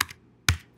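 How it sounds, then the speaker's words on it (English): Two brief clicks of keys on a computer keyboard, a short tap followed by a sharper one about half a second later, close and quiet. "I'm going to go ahead and type Battle of Baltimore"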